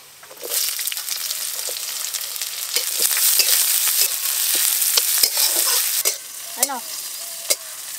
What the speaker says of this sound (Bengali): এবার কুমড়ো শাক ভাজা করব